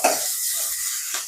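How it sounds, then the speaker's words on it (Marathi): Ground masala paste for a brinjal and potato curry sautés in a pan, giving a brief, soft sizzling hiss that fades within a second or so. "आता आपण जे वाटण तयार करून घेतलं होतं ते घालूयात आणि 3 ते 4 मिनिट चांगलं परतून घेऊयात"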